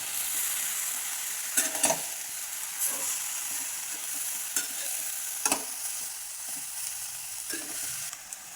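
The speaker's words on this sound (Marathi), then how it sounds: "त्यात वाटाणा पण टाकून घ्यायचा मिरची आणि ते एकत्र करून घ्यायचं आपण" Dill greens with peas and green chillies stirred in a frying pan, a steady sizzle with scattered clinks and scrapes of the spoon against the pan, close and fairly loud, with no talking.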